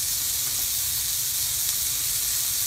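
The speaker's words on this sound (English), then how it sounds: "We've got what you call a ripping hot cast" A burger patty sears in a ripping hot cast iron pan with a little canola oil, making a dense, steady, loud sizzle that holds without letup.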